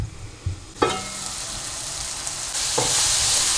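Peppers frying and softening in a pan, a steady broadband sizzle that swells around the one-second mark and grows louder near the end, with a couple of soft clinks of stirring.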